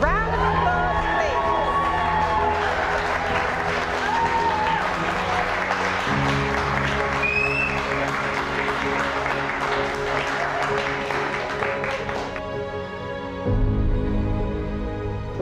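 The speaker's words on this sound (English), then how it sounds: "Round of applause, please." Wedding guests at Burley Manor applaud and cheer just after the couple is pronounced husband and wife, a steady dense wash of clapping with whoops and shouts running throughout.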